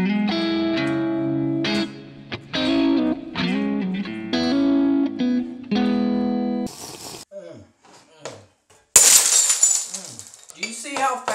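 Distorted electric guitar notes play, then glass is broken to make guitar picks, a sudden bright shattering crash with tinkling shards, and a voice talks between the sounds.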